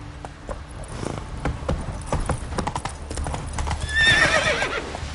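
Roach, the horse in The Witcher 3, gallops with a quick, rhythmic clip-clop of hooves, then lets out a high neigh near the end. Game music and ambience sit underneath.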